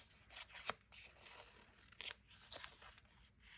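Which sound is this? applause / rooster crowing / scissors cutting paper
scissors cutting paper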